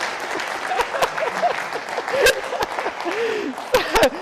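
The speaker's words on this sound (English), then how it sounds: "Let's give a big round of applause, because I just love this book." Audience applause at the ISF 2023 forecasting conference keynote, a broadband patter of clapping running steadily through with a few sharper claps and brief voices or exclamations rising over it.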